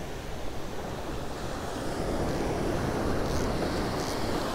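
Ocean surf breaking on a sandy beach where someone is surf fishing, a steady close roar of waves with some wind rushing across the microphone, no voices.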